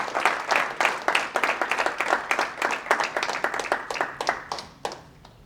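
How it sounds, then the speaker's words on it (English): Audience at an annual general meeting of the ICAI Singapore Chapter gives a round of applause, fairly close, rhythmic clapping from a modest crowd that swells and slowly tapers off. "A big round of applause to Kushal."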